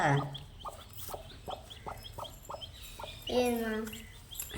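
A newly hatched chick, just out of its egg, peeps in a quick run of short high chirps, followed by a louder drawn-out call near the end.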